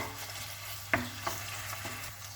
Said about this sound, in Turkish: Kıymayı da kavuracağım soğanla birlikte.